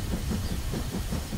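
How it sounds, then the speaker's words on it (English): A cartoon toy train moves along its track with a dense, continuous rumble and a rhythmic, rolling clatter, fairly loud and close, with no voices over it. "Mr. Train is going right."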